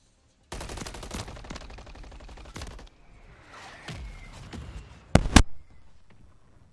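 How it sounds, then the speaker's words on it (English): Mortar strike in a video game: a burst of rapid gunfire-like impacts for a few seconds, a quieter stretch, then a loud sharp explosive blast near the end. "Friendly mortar strike on the way."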